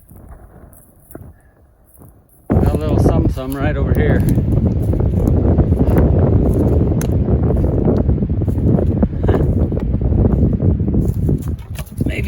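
Wind gusts buffet the microphone outdoors in New Mexico or Arizona backcountry, a quiet start, then a sudden loud low rushing roar that keeps going, with someone speaking over it.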